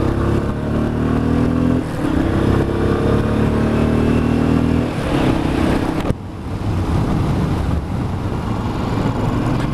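A 2019 Royal Enfield Classic Bullet 500 single-cylinder motorcycle engine drones loudly while riding, with steady throttle, a gear change around two seconds, and wind rush dominating throughout; a brief dip and surge near six seconds suggests the rider opening it up.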